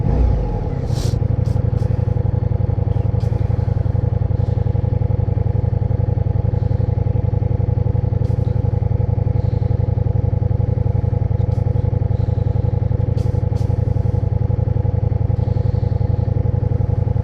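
A V4 cruiser motorcycle engine rumbles steadily and loudly at close range, a deep even throb that holds without pause or talk.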